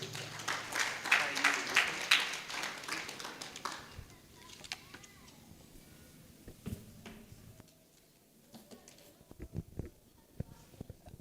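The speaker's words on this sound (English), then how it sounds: "Give her a round of applause" Audience applause at a Uganda Diaspora Convention investment session, a dense burst of clapping for the first few seconds that thins into scattered claps and small knocks in a quiet hall.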